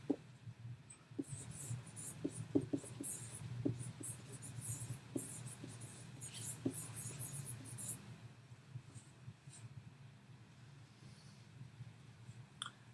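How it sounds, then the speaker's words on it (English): A pen or pencil writes out a math answer on paper at close range, making soft scratching strokes and light taps in an otherwise quiet room, with no talking. "And then I'm going to write my answer."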